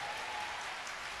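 Believers at a prayer gathering clap together loudly, a continuous wash of applause sustained evenly throughout, with no voices standing out.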